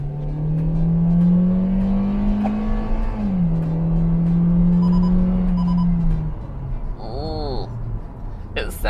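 A 2021 Hyundai Venue's 90 kW four-cylinder engine in sport mode drones loudly as it accelerates, its pitch climbing, dipping briefly at a gear change, then holding before easing off.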